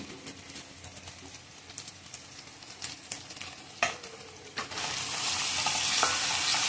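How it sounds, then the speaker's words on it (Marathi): Green and yellow capsicum, tomato, carrot, peas and green beans sautéing in a pan for shevaya upma, a low sizzle with intermittent spoon scrapes and taps, then the frying hiss swells louder toward the end, with no talking. "हे चांगलं परतून घ्यायचं."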